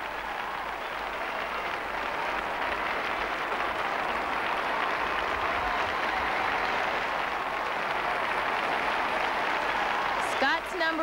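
An arena crowd at the Capitol Center in Washington, D.C. applauds a professional figure skating performance with sustained, dense clapping and cheering at an even level, and a commentator speaks faintly beneath it.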